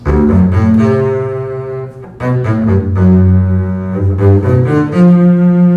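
A double bass, bowed, plays sustained, accented notes one after another from Verdi's La Forza del Destino, each held long and ringing, loud and close with no talking.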